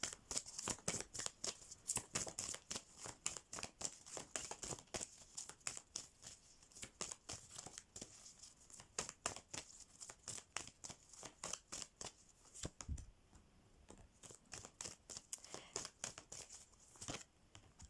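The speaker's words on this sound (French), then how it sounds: "Hop, j'ai envie de tirer d'autres cartes. Je vais tirer 2 autres cartes." Oracle cards are shuffled and drawn by hand, producing a long run of quick, close riffling and flicking patters. The sound is faint and steady, with a single soft thump partway through.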